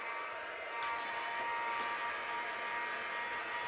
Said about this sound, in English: I might show it the heat gun